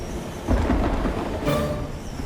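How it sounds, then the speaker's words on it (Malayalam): A cartoon sound effect of thunder and rain: a loud rolling rumble with a sharp crack midway over a constant wash of rainfall, close and dense. "ഇതിപ്പോ മഴ പെയ്യുമെന്നാ തോന്നുന്നത്"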